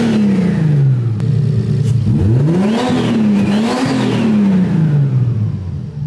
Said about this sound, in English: Let's turn her on and hear what this turbo does.